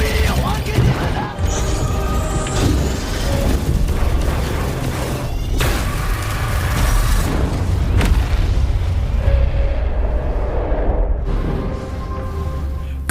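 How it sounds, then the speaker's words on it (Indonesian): A cannon fires in a film scene of alien robots attacking Earth, setting off a big explosion that wrecks surrounding buildings; dense rumbling booms and blasts roll on loudly, with narration over them. "Meriam itu pun langsung ditembakkan sehingga menimbulkan ledakan besar yang juga merusak bangunan sekitarnya."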